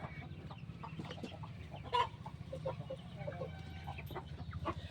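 Aseel hens cluck steadily in a low, busy chorus, with a yellow Aseel rooster's occasional sharper call breaking through now and then.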